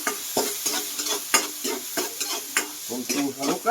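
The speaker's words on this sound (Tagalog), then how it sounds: "Kunting halukay para magiging lumbas ang aroma ng ating mga sangkap." Onions and bullet tuna are stirred in a frying pan for a coconut-milk stew, with repeated scraping strokes over a soft sizzle. The scrapes are close and rhythmic, with no talking.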